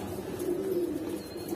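Homing pigeons kept at a house, among them a big-sized cock and a green-necked hen, give low, continuous cooing that stays close and fairly loud, with no voices over it.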